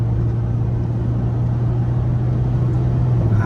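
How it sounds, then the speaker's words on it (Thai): A Ford Ranger T6 pickup fitted with an F1 electric throttle controller, engine held at a light steady throttle, giving a continuous low droning rumble with a constant hum, close and loud, no voices. "ก็คือตอนนี้ผมกดกดคันเร่งแค่แค่หน่อยเดียวนะครับ"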